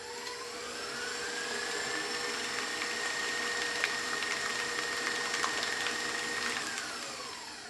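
An electric mixer whirs steadily through gluten-free frosting for sugar cookies, a sustained motor drone that rises in pitch after a second and holds up close, with faint scraping ticks against the bowl.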